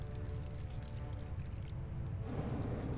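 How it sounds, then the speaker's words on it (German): Water sloshes and pours steadily from a bottle onto sea flowers in the adventure game Abyss: The Wraiths of Eden, a soft continuous gurgle over a low hum, with no talking heard. "die müssen wir mit der Flaschen gießen"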